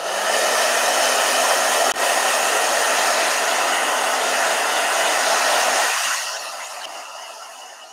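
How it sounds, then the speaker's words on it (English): A blow dryer runs loudly and steadily for about six seconds while drying watercolor paint, a dense broadband whoosh with a brief bump, then winds down and fades as it is switched off. "Blow dryer."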